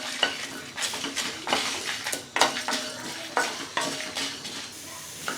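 Red chillies and spices dry roast in a pan without oil for a garlic and curry leaf kuzhambu, with a spoon scraping and stirring in quick irregular strokes, close and fairly quiet, with a faint sizzle and no talking.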